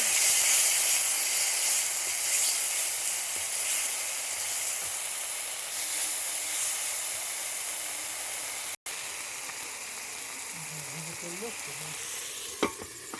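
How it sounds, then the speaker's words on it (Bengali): Ground spice paste for a bata fish curry sizzling in hot oil, a dense hiss that fades gradually, with a brief break and a few stirring knocks near the end. "বেটে রাখা মশলা দিলাম, বাটা মাছের ঝাল করব"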